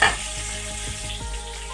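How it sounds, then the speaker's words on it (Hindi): Whole cloves, cardamom, cinnamon pieces and cumin seeds frying in hot oil for a dhaba-style lobia masala, giving a steady close sizzle with soft stirring scrapes, no voices. "इनको फ्राई करते हैं"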